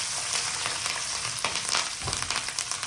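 Steady sizzling and crackling of mustard seeds, asafoetida, curry leaves and chillies frying in hot oil, with a few sharp pops and stirring clinks, loud and close throughout.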